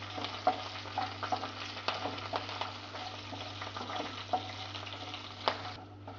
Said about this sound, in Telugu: ఇప్పుడు ఈ తాలింపుని బాగా వేయించుకుందాము.